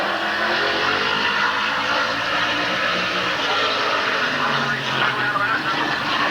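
Paul Miller's number 1 race car circles the Midvale Speedway oval in 1988, its engine a steady, continuous roar that fills the clip at moderate distance, with a public-address voice speaking over it.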